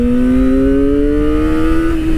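A Kawasaki Ninja ZX-25R SE with a 250cc four-cylinder engine revs hard and close, its loud, smooth whine climbing steadily in pitch throughout with no pauses.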